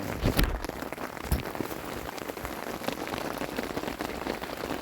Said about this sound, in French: Il pleut un petit peu je crois.